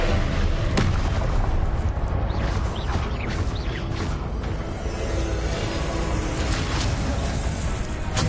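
Spell explosions and magical impacts in Hogwarts Legacy video game combat, a dense continuous barrage of booms, blasts and crackling effects layered over game music, loud and steady throughout with no talk.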